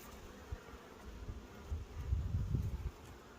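Honey bees crowd over foundation freshly rolled with beeswax, their steady low buzzing swelling toward the end with no voices present.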